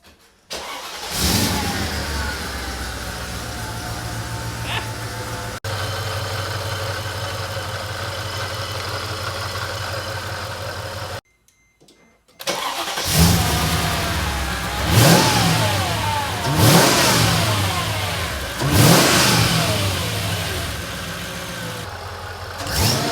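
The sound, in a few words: Mercedes E55 engine starting and revving with a 77mm fixed pulley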